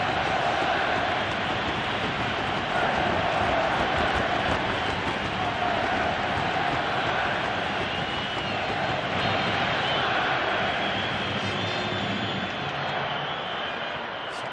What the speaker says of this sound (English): Listen to the Aussie crowd.